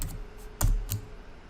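A computer keyboard clacks with a few sharp keystrokes close by, two louder taps standing out among fainter ones as a command is typed.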